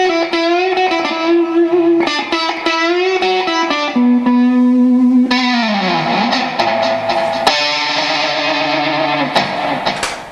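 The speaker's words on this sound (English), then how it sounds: "there's a lot of distortion on there" Distorted electric guitar played through distortion effects pedals, loud, saturated sustained notes and chords with shifting effect tones, continuous throughout with no talking.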